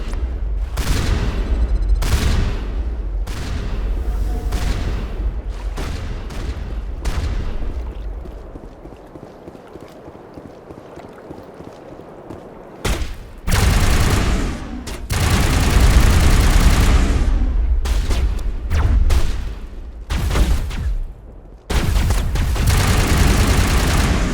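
Sustained gunfire and explosions from a Mass Effect battle on Virmire, loud and dense, with rapid bursts and booms that drop into a quieter stretch midway and then return at full intensity.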